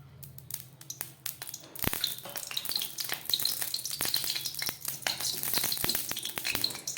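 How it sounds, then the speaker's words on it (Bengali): Mustard oil hits a hot wok and erupts into a loud, continuous sizzle with crackling pops, following a few quiet clicks. "গরম হয়ে গেছে আমি দিয়ে দিচ্ছি সর্ষের তেল"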